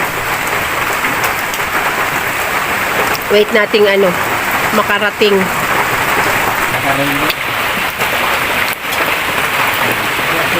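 Heavy rain pours in a constant loud hiss throughout, with people talking briefly over the downpour.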